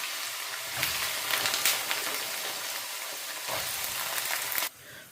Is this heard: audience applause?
no